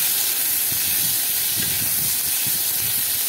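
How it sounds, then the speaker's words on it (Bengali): Chopped onion and garlic sizzle while frying in a pan, a steady, loud hiss that continues throughout with faint low clatter beneath. "এখন পেঁয়াজ কুচি আর রসুনটা ভেজে নেব।"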